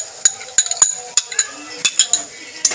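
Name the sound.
spoon clinking in pan as beaten yogurt is added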